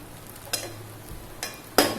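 Sabudana khichadi (sago pearls) cooking in a pan over low heat, with soft scraping stirs and a few louder clattering bursts against the pan, the loudest near the end, over a faint background hiss.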